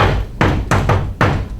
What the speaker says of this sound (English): He knocks impatiently, much louder.